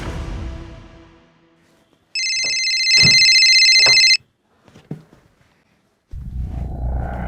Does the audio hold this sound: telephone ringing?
yes